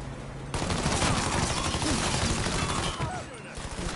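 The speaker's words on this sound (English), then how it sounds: "Terrible shot, so I use a machine gun" Machine gun fire in a video game rattles as a dense, continuous stream of rapid shots, steady and fairly loud for several seconds, with a voice faintly underneath.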